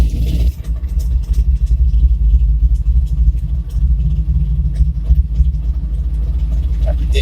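A 1962 Chevrolet C10 pickup truck engine runs with a steady low rumble and slight rhythmic pulsing, fairly loud and close, holding evenly throughout.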